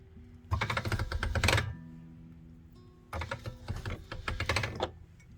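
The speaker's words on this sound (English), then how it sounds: "And then I'm going to fold and roll until it's nice and conditioned." Polymer clay is folded and cranked through a roller, giving two bursts of dense, rapid clicking and rattling separated by a short quiet pause.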